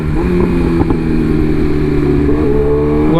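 A BMW S1000RR M Package sport motorcycle on a test ride, its engine droning loud and close with a steady harmonic buzz and slight rise in pitch, wind noise over it, no talking.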